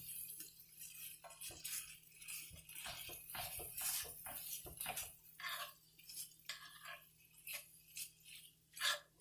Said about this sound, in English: You want to mash it a little bit so that it can absorb some of those flavors.